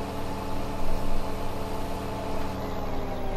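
A vehicle engine idles steadily in a video game, a constant low rumble with a slight swell in the middle, close and continuous with no talking.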